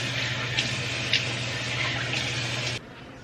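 Running tap water splashing into a sink while a lip mask is rinsed off, a steady close stream with small splashes that cuts off abruptly near the end, leaving only quiet room hiss.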